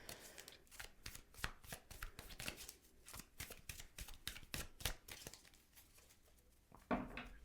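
Tarot cards being shuffled up close, a fast run of crisp riffling flicks in quick irregular bursts, quiet and without talk, ending in one sharper snap.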